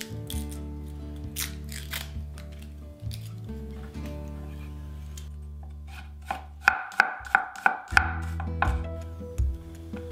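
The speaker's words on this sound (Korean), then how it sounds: "마늘은 2톨을 얇게 썰어주세요." A knife thinly slices two garlic cloves on a board while a one-pan steak cream pasta is prepared. A quick burst of crisp, evenly spaced cutting taps comes midway, over a steady low background hum.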